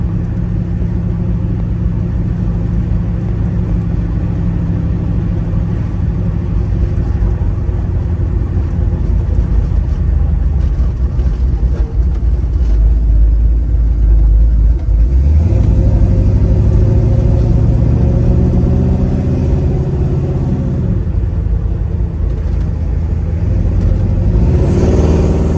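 A 1970 Chevrolet Nova's engine rumbles steadily while driving, a deep continuous drone that swells with revving partway through and holds a loud, even roar without talk.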